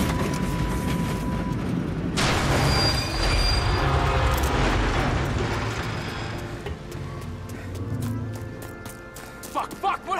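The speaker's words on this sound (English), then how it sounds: "There's some kind of fucking train?" A train rumbles past in the Mafia Definitive Edition video game, wheels clattering and squealing loudly on the rails, with game effects and a voice talking over parts of it.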